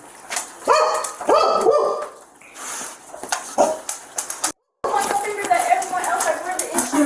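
A dog barks several times in short bursts amid overlapping conversation, with a brief dropout partway through.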